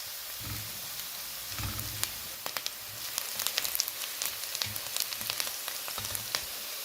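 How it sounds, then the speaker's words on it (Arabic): Sliced onion sizzling in hot oil in a pan, a steady soft frying hiss broken by faint periodic stirring scrapes and crackling pops, with no talk. "الآن وضعنا البصل مع الزيت، نقلبه لفترة بسيطة"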